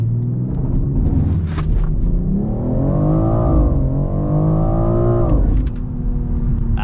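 A BMW xDrive car with a stock inline engine launches from a standstill, its loud, close engine note climbing steadily through a long hard acceleration run and holding strong before easing off near the end.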